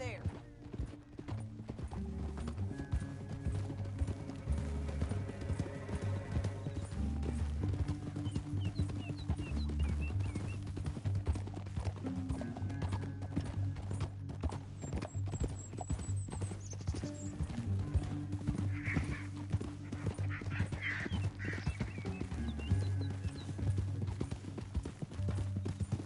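Horse hooves clip-clop in a steady rhythm throughout a PS4 video game, with music playing underneath and occasional voices speaking over it.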